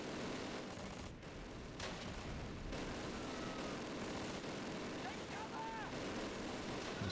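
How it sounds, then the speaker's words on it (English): Gunfire in the World War II tactics game Close Combat: The Longest Day at Pegasus Bridge, heard as a dense, continuous crackle of rifle and machine-gun bursts at moderate distance, with a voice talking faintly beneath it. "There's stuff firing from over here"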